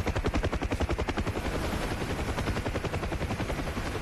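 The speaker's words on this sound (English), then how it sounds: "Whoa, I'm taking fire." Rapid gunfire crackles around a UH-1 Huey helicopter in the DCS combat flight game, rhythmic bursts over the steady thump of the rotor blades, loud and close, with no talk.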